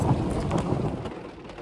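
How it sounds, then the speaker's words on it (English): Steady rain pattering on a car, close and continuous with broadband hiss and soft drumming, a little heavier at the start and easing slightly toward the end, no voices. "If you wonder about the sound, it's just the rain."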